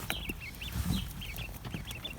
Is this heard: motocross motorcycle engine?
no